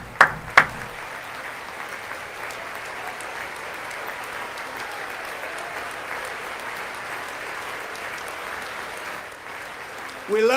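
Sustained audience applause and cheering in a large hall during a State of the Union address, steady and dense throughout after a couple of sharp claps at the start, with no speech over it.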